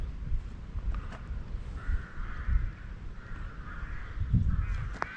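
Rooks cawing in the countryside beside the upper River Coln in the Cotswolds, a few scattered calls at moderate distance over steady wind and low rumble.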